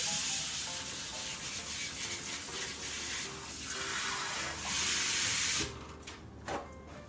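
Ground meat for Lebanese lubia b' lahem sizzles steadily in a hot pan, a dense continuous hiss that swells and is stirred around, fading slightly near the end.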